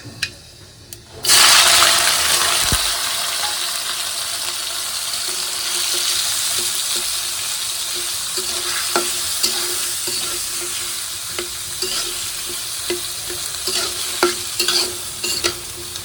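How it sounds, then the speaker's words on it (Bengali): Panch phoron spices hit hot oil for tempering, starting with a sudden loud burst of crackling sizzle that settles into a steady fry dotted with sharp pops and a few clinks toward the end. "পাঁচফোড়ন দিয়ে বাগা দিয়ে দিন"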